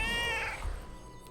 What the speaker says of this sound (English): Gotta love the kitty cat.